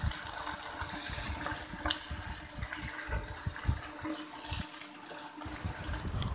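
Water poured steadily while preparing corn flour slurry for chicken Manchurian in a home kitchen, a continuous splashing gush running for several seconds with no talk.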